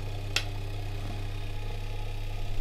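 An automatic washing machine motor runs on a repair bench, giving a steady low electrical hum with a faint whine above it and a single sharp click near the start.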